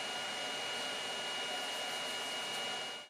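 Three cooling fans on a 3D printer run continuously, making a steady, loud broadband whir that holds evenly throughout before cutting off abruptly at the very end.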